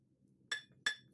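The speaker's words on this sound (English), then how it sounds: "Just gently tap it off to break the seal." Two sharp metallic taps, close together, as a Cummins turbo compressor backplate is knocked loose to break its seal during a teardown.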